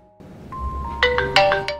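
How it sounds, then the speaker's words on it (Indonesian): A mobile phone ringtone sounds in a drama scene, a quick series of bright electronic chimes rising out of quiet and ending within two seconds. "Sialnya HP dari Xiao Fei malah berbunyi"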